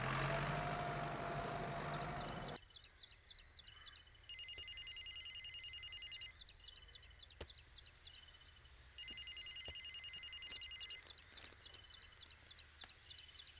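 A telephone bell rings in repeated bursts of rapid metallic trills separated by short gaps, loud and clear over a quiet low hum, following a brief burst of louder background noise at the start.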